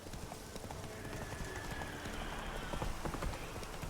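Roach the horse in The Witcher 3 clops along with steady hoofbeats over a rain-like wash, with a faint whinny mixed in.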